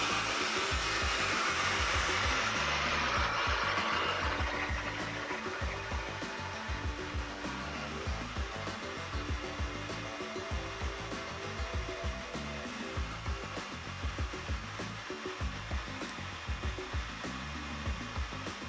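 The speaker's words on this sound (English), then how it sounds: "you can go ahead and diffuse it now" Hair dryer with a diffuser attachment drying an old curly wig, a steady close whooshing roar that is loudest at first and then settles into a slightly softer continuous blow, with no talking.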